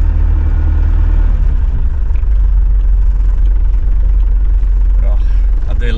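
A 1979 Range Rover Classic's engine runs cold, not yet warmed up, giving a close, loud and steady low rumble that holds throughout.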